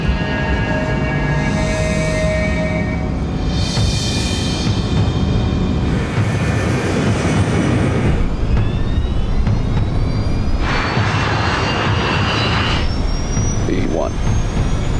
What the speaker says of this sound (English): The DC-8 accelerates to takeoff speed.